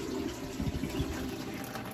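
Low-pressure water is poured carefully into a drain, giving a steady soft gurgling wash with faint splashing close by and no talk.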